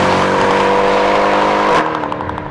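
A Mercedes C63 Black Series engine roars loud and close under hard acceleration, then cuts sharply as it shifts up, leaving a lower, rougher engine note.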